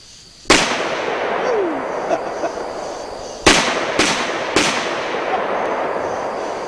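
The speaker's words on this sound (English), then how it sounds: "watch the gun in recoil when I shoot it" A potent handgun fires four sharp, loud shots, one early and then three in a quicker cluster, each a sudden crack followed by a fading outdoor echo.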